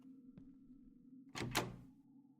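Someone tries a locked door in the Verge horror game: a quiet thunk, then a short rattling clatter of the handle and frame against a faint low room hum.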